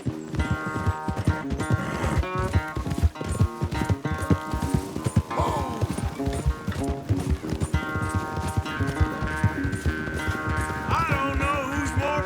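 Horse galloping in a race in the video game Red Dead Redemption 2: rapid, steady clip-clop hoofbeats running throughout, loud and close, over a continuous musical score with some voices.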